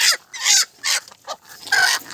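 Desi chickens on a farm let out several short, loud, harsh squawks and clucks in quick bursts, close by with brief gaps between.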